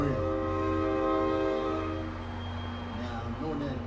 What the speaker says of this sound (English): Now, I know that train not going to leave.